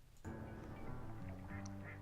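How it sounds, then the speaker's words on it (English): Ducks quack in a Far Cry 5 game trailer, a steady cluster of nasal calls over continuous background sound, fairly close and moderately loud. "those ducks. I think those are little ducks. Yes, there's ducks."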